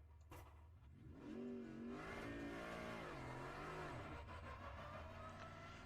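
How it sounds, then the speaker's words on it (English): A GT4 race car's engine revs and pulls away in iRacing on the Tsukuba circuit, with the pitch rising and falling through gear changes, fairly quiet and steady, with no talk. "we'll get the car started and we will head down to turn 1"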